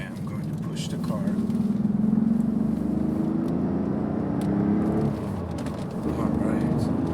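A BMW 850CSi (E31) engine hums and builds as the car accelerates through 60 to 90, heard from inside, a steady rising drone with no talking.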